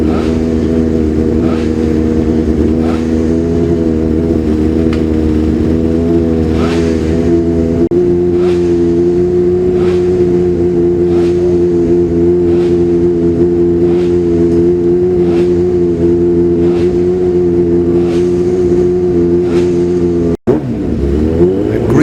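Michael Rutter's yellow 750 Yamaha racing motorcycle, number 4, at the Classic TT, its engine holding a loud, steady high-revving drone close by with pulsing harmonics, then a brief dip and change near the end.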